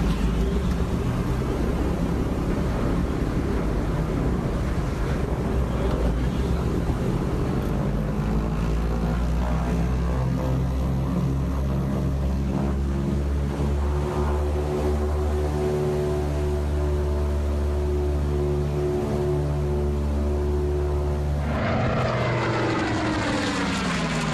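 B-25 bomber propeller engines idle loudly with a deep, steady drone, then rev up near the end into a rising, throbbing roar.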